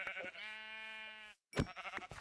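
Sheep in Minecraft bleating twice, a long wavering harmonic bleat followed after a brief silence by a shorter, louder one, clear and close with no talk.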